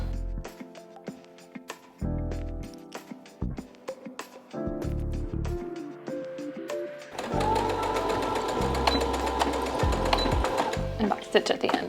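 A sewing machine runs in short bursts of rapid stitching, stopping and starting, then settles into a longer continuous run while backstitching, close and steady, with talk over parts of it.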